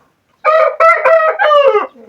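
A rooster crows loudly and close, one long multi-part call broken into several bursts, among poultry kept under a shed roof in warm weather.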